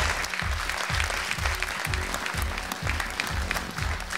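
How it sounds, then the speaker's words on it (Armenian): Studio audience applauding at a televised talent show gala, a dense, steady round of clapping that holds at an even level throughout, with no voices over it. "Ծափահարենք։"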